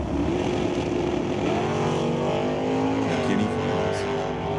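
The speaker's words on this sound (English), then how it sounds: "Rick McKinney with his 96 Camaro" Engine of a 1996 Camaro roaring at a drag strip during an ET series race, a loud sustained note that rises in pitch as the car accelerates down the track, with an announcer talking over it.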